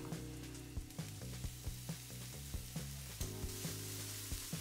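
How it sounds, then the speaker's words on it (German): Onions, garlic and diced cooked ham fry in a pan with a little vegetable oil, giving a steady soft sizzle punctuated by regular clacks of a spoon stirring the pan, fairly quiet and close. "Und jetzt werden wir diese ganzen Zutaten in einer Pfanne mit etwas Pflanzenöl anbraten."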